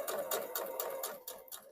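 A sewing machine runs a straight stitch on a lined wrap dress, a faint, quick rhythmic clatter of the needle pulsing steadily for under two seconds.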